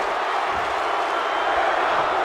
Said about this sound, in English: The crowd is deafening over the pin.